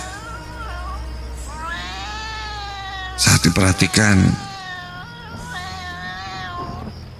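A cat gives long, wavering meows, with a short burst of speech breaking in between them.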